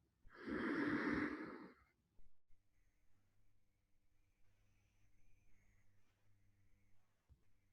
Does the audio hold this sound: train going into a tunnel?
no